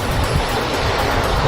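Water tumbles over a small rocky ledge on a stream at Thottikallu Falls near Bangalore, a steady, close, full rushing wash that carries on without a break through the short stretch.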